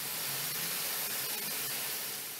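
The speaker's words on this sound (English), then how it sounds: "Boeing uses a state-of-the-art robotic system called the Automated Spray Method, or ASM, to paint the wings of their 777 aircraft" Robotic dual spray guns apply paint coatings to stationary Boeing 777 aircraft wings in a factory, giving a continuous, faint, even hiss with no voices.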